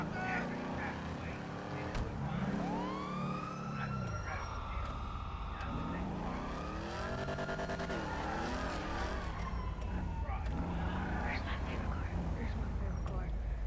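A car driven in a PS4 video game, engine tone rising and falling through gear changes with skidding, under a constant layer of game sound and excited talk.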